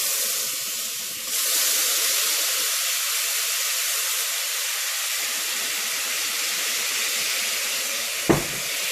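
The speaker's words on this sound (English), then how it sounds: "I'm going to deglaze with a little bit of my red cooking wine." Red cooking wine hits a hot pan for beef stew, releasing a loud, steady steam hiss that runs almost unbroken, with a brief clank near the end.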